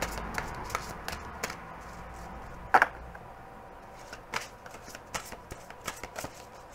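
Tarot cards are shuffled close by in soft, quick riffles and taps, with one sharper snap partway through and otherwise a quiet background.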